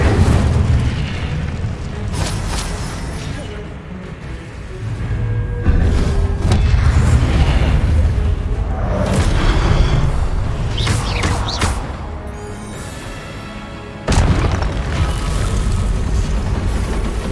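Booming blasts of the Incendio fire spell in Hogwarts Legacy, a series of heavy fiery bursts and rumbling eruptions that recur over many seconds, loud and close, with sharp pops between the swells.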